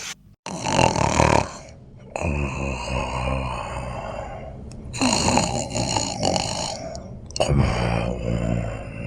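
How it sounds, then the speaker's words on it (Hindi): Loud, drawn-out snoring from inside a cave, in repeated long breaths with gravelly rattling, separated by short pauses. "सामने वाली गुफा से किसी के खर्राटे लेने की आवाज आ रही होती है।"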